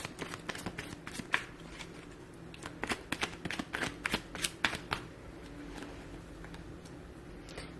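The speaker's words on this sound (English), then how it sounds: "I'll shuffle my cards over here and see what we get for you here" A deck of tarot cards riffled and shuffled in quick crisp bursts of flapping clicks, close and fairly quiet, easing off into a soft hiss.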